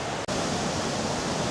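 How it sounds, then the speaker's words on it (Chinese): Guanyin Waterfall swollen by heavy rain, a steady, dense roar of falling water, loud and continuous with a brief dropout near the start. "就是第2层的观音瀑布"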